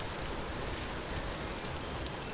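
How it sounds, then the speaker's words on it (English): Steady, dense rain in the Vintage Story video game makes an even, close hiss with no pauses. No one speaks. "Nice rainy day."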